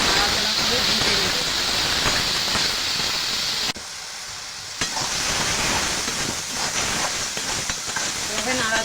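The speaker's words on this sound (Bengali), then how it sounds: "স্বাদ মতো লবণ দিয়ে দেবো, হলুদ, নাড়াচাড়া করে ভেজে নেব" Ridge gourd with salt and turmeric fries in a pan, a close steady sizzle and hiss with scraping stir strokes, briefly dropping off before the sizzle resumes.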